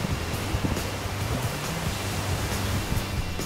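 Waves wash onto the private beach of Kanbay Beach Resort in Kannur, making a continuous broadband roar of surf with faint repeated swells, close and fairly loud, with no voices.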